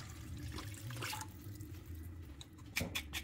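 Water poured into a sautéing pan for a sardine soup with patola and sotanghon, a short close splashing and gurgling pour, with a sharper splash near the end.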